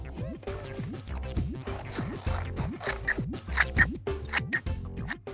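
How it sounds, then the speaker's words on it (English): Scissors snip through green card to cut out cloud shapes, giving quick, repeated crisp cuts close by over cheerful music playing underneath. "now we can cut these shapes out, but be careful because scissors are sharp"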